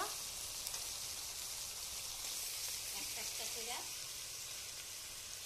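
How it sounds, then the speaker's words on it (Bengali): Fish in masala frying in a pan, a faint, even sizzle that runs steadily throughout with a few soft stirring sounds near the end. "এই যে মাছটা দিয়ে দিলাম, এটার মধ্যে মাছ কষানো হইব"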